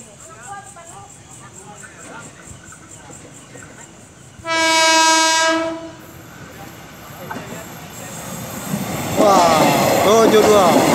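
KRL Commuter Line JR205 electric train bound for Nambo station, heard passing at a station with a loud horn blast midway, then rising wheel and motor noise, while people chat nearby.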